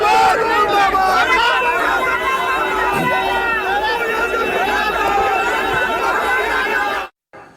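Dense crowd of hundreds of protesting supporters gathered outside Pappu Yadav's house, loud overlapping shouting and chatter with raised voices throughout, ending abruptly.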